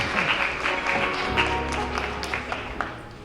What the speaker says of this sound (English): Let's give a round of applause for our youth.